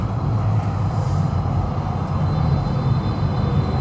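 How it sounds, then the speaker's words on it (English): A loud, steady low rumble of a CTrain rolling into a downtown Calgary station, heavy and continuous with no voices. "Finally, it's coming, the train."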